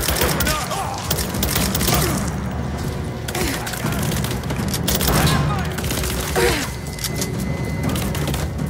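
Video-game gunfire in Rise of the Tomb Raider rattles in dense, repeated volleys with thuds and booms throughout, while voices shout over the combat.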